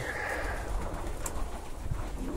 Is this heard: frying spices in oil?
no